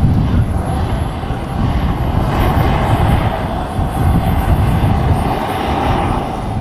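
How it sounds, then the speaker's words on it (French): An electric Rafale model jet flies overhead at a 1998 Florida jets meet, giving a steady, loud whooshing drone that stays fairly even throughout, with a broad rushing tone and no voices. "voici le Rafale électrique de Jack Kennedy"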